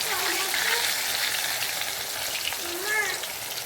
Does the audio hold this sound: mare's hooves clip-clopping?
no